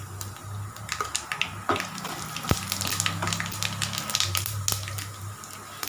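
Cumin seeds fry in a hot pan with a dense, steady sizzle and crackle, with occasional sharper pops and some scraping of stirring, close and continuous.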